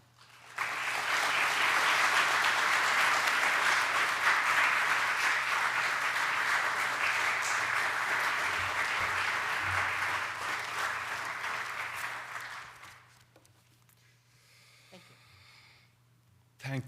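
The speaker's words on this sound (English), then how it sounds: "please join me in that applause for Declan Walsh." Sustained audience applause at a lecture honoring a foreign correspondent, loud and steady for about twelve seconds before tapering off into quiet room tone with a few stray claps.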